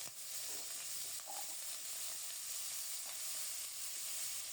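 Chopped radish sizzles quietly in tempered oil with bay leaf and green chillies for dal, a faint continuous hiss with no voices over it.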